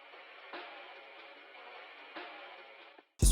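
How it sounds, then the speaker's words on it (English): A subtle, quiet percussion loop from the 44th Floor Textures and Percs kit, a soft textured hiss with faint soft hits recurring at a slow interval, cut off by a brief louder burst at the very end. "And then finally just added this perk loop from 44th Floor Textures and Perks accent kit"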